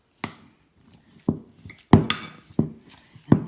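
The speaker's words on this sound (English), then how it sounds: "So I'm going to stir a little bit more." Homemade play-dough ingredients stirred in a bowl, giving a series of sharp, close knocks and scrapes against the bowl in an uneven rhythm, roughly six distinct strokes with brief quiet gaps between.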